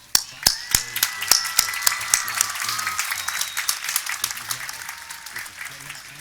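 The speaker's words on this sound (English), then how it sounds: "Please join me in applauding them." Audience applause at a university commencement ceremony, opening with sharp individual claps that swell into dense, sustained clapping from a large crowd, fairly close and loud, with a murmur of voices underneath.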